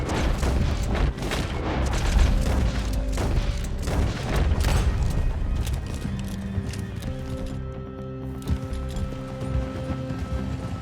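Gunfire from a Red Dead Redemption shootout: a flurry of sharp shots and booms in the first half, mixed with galloping horse hooves and a whinny. The shots die away, leaving steady hoofbeats and music.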